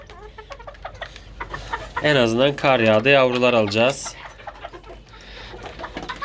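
Chickens in a snowy coop, where an İspenç rooster has just been given a second hen, let out a loud drawn-out harmonic call lasting about two seconds, amid softer clucking and someone talking.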